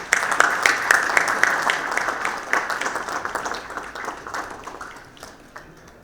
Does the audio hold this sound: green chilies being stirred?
no